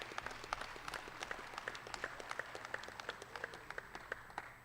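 Audience applause at the Kentucky State Fair open dairy cattle show for the junior champions, a steady wash of many hands clapping with sharp individual claps over a low hum, fairly faint and distant across a large hall.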